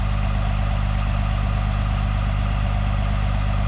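A tractor engine idles in a muddy field during corn planting, a steady, loud low rumble that runs unbroken from start to finish with no talking.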